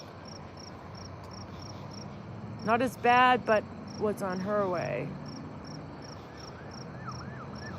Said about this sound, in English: there are crickets here too, you know